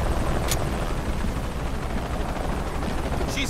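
Helicopter in the Shadow of the Tomb Raider video game, a loud steady rotor roar filling the whole stretch, with sharp brief gunfire-like cracks cutting through.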